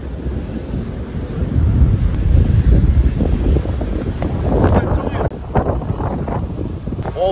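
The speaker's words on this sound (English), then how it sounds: "all of a sudden it got so windy" Strong gusty wind blows outdoors right after rain, roaring and buffeting the microphone steadily throughout, with someone talking over it.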